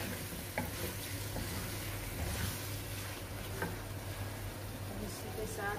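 Tomatoes are stirred into a frying baigan (eggplant) dish in a pan, giving a steady, close sizzle with soft scraping stirs throughout.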